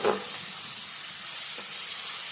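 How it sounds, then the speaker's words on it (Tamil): Onions sauté in a pan for prawn thokku gravy, a continuous soft hiss of frying with a brief stirring scrape at the start and another faint one midway. "இப்போ நல்லா இதை நல்லா வதக்கிக்குவோம். நல்லா வதங்கி வரணும் வெங்காயம்."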